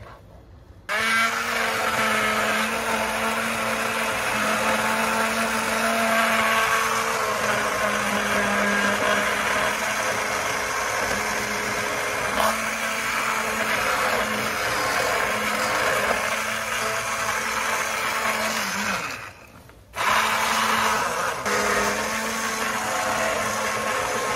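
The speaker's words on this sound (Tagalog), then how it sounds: "Kaya ito na lang pong hand mixer." A hand mixer whirs steadily in hot lentil, zucchini and potato soup with a loud, constant motor drone, briefly cutting out near the end before starting again.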